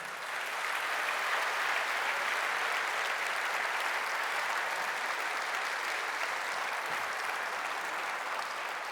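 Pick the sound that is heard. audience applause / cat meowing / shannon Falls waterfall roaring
audience applause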